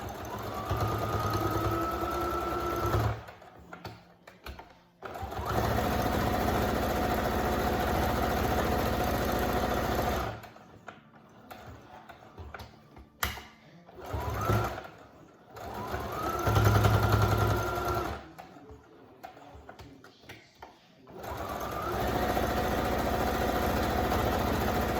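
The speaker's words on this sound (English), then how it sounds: "I'm just going to sew that corner, and then I'm going to go back over that stitching one more time" A sewing machine stitches the corner of a child's face mask in several steady whirring runs separated by short pauses, the motor humming loud and close, with quiet handling noise between runs.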